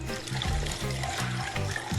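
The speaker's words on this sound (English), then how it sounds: "Just gonna pour the cocktail in." Cocktail poured from a container into a very large shaker half filled with ice, a close, steady liquid stream with faint clinks, no talking.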